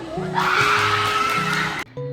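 Several people scream and whoop together in a short, loud burst that cuts off abruptly near the end.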